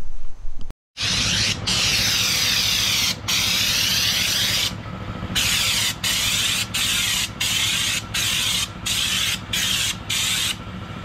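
A loud continuous hiss of a spray gun applying Raptor bed liner coating to a trailer, cut by repeated short pauses as the trigger is released and pressed again.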